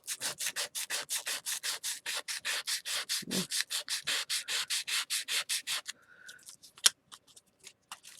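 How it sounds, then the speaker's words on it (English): Sandpaper rubbing a wooden Dollar Tree domino in quick, even back-and-forth strokes, close and crisp, about twenty passes before stopping, then a few light taps and clicks. "just take a little piece of sandpaper."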